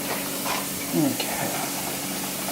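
Chicken browns in a pan beside onions and garlic, a steady close sizzle with brief stirring scrapes and a soft clatter partway through, while someone talks faintly.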